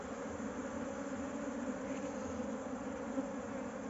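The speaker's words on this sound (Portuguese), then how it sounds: "Tem um bocado de abelha andando aqui." Dense, steady hum of a honey bee swarm buzzing around a hive built in a tyre, continuous and close, with no voices.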